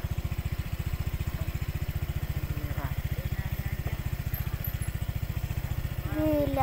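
A motorcycle engine runs steadily and close by at a low, pulsing rhythm while riding a rough village road in East Krayan, with a brief louder surge near the end.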